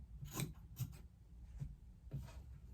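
Scissors cut through quilt fabric, four crisp snips spaced under a second apart, close and fairly quiet with no talking.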